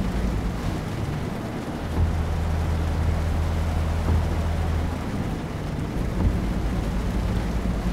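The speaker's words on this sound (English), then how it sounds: "so it must be heavy rain, quite heavy." Heavy rain and thunder in the Euro Truck Simulator 2 video game form a dense, steady roar of rainfall with a low rumble underneath, continuous and loud for the whole stretch, with a low engine-like hum and no voices.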